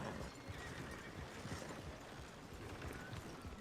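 Video-game horses near stables at a town's end, a whinny and scattered hoof clip-clops blended into a faint, steady ambient bed, with no talk.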